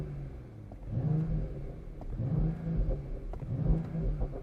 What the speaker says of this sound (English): If I put it over here into Sport Plus, you can hear the baffle open in the exhaust.